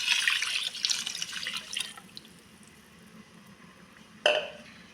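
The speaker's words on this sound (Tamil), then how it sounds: "இதோட இப்போ இந்த தேங்காய் பாலை நீங்கள் சேர்த்துக்கோங்க." Coconut milk poured into a pot of rice for Tamil-style yellow rice, a soft liquid splashing and trickling for about two seconds, then quieter, with a brief clink near the end.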